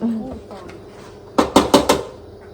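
An iron wok clatters on a stove with four quick metallic knocks while stir-frying noodles, following some soft kitchen noises and faint background talk.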